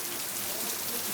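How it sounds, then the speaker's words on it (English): Heavy rain falls outside in a steady, dense hiss, with no break and no other sounds over the short stretch. "This rain is so good."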